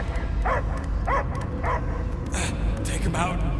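A dog barks in Guardians of the Galaxy game play, several sharp barks and yips repeating at a quick uneven pace over a loud rumbling game background, with a voice briefly speaking among them.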